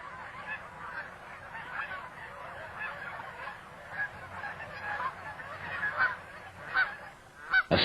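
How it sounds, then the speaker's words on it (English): A small flock of Taverner's geese flying past calls in a continuous chatter of honks at moderate distance, swelling slightly louder toward the end as they pass. "These are Taverner's geese."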